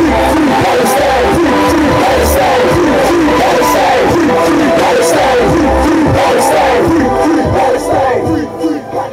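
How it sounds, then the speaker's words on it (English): A large crowd at a pro-Palestinian rally in Oldham claps and cheers loudly and continuously, with shouts and whoops rising over a steady roar of applause that thins slightly at the very end. "Give her a round of applause for Magna."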